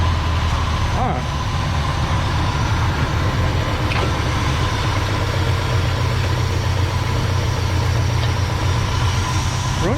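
The engine of a 1968 Ford F100 pickup runs at a steady, rumbling idle, loud and close for the whole stretch, with voices talking over it.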